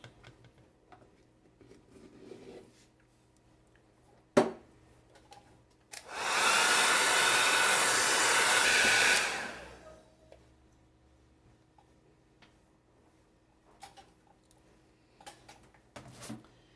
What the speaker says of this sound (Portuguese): Eu dei uma acelerada aqui no secador de cabelo